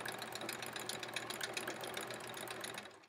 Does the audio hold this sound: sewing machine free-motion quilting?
yes